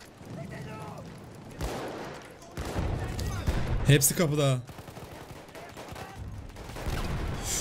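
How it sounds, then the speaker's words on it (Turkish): Gunfire and explosions in the multiplayer shooter Battlefield 1, bursts of shots and heavy booms coming in waves, loud and close, with someone talking over the battle. "Abi her yerden silah geliyor, bomba geliyor, bir şeyler geliyor."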